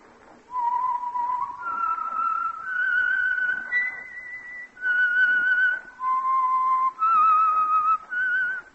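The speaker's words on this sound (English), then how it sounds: "the signal to listen for is this whistle that identifies the Signal Oil program" A clear, melodic whistled tune serves as the signature theme of the Signal Oil radio program The Whistler, a solo human whistle of sustained pitched phrases stepping up and down, close and alone.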